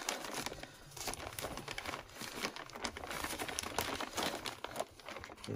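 Plastic dust extractor bag for an iQ426HEPA being handled and sealed with elastic and a zip tie, giving quiet, busy crinkling and rustling that continues throughout, close up with no talk.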